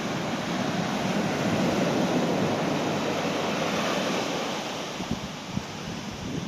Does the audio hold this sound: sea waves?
yes